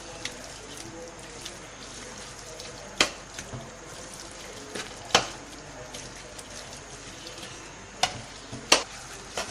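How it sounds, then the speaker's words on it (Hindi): Spoon working through tender cooked meat in a pot for haleem, a soft wet stirring and squelching bed punctuated by several sharp clinks of metal against the pot at irregular intervals. "अब हम चमचे से इसको अच्छी तरह इसी तरीके से तोड़ते रहेंगे बोटियाँ"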